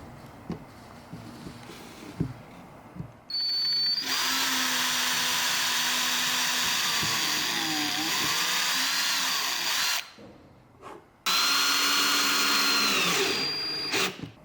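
A power drill drives screws into a composting toilet seat from underneath in a van, running in two long loud bursts separated by short pauses, with a rising and falling motor whine.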